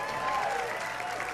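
Audience at a game conference keynote applauding, a steady dense wash of clapping from a large crowd, sustained and even throughout.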